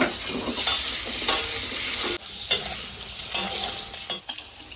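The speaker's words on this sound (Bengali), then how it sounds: "হালকা ডিম ভাজা হয়ে গেছে" An egg frying in hot oil gives a steady, close sizzle that dips briefly a few times, with no talking.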